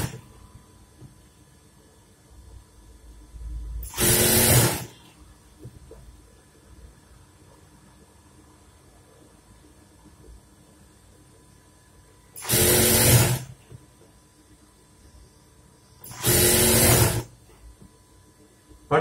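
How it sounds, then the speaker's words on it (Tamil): A sewing machine stitches a folded one-inch hem on a pair of trousers, running in three short, loud bursts of about a second each, with quieter stretches of a person talking between them. "மடக்கி வச்சு ஒரு இன்ச்சுக்கு தையல் போடணும்."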